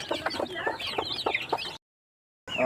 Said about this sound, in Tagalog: yung manok natin na native